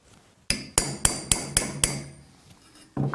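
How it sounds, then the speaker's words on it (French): Six sharp hammer blows strike a center punch against a steel tube to mark a drilling point, evenly spaced and ringing close up, followed by quieter handling. "Et ce plat va me permettre de marquer au pointeau le point de perçage."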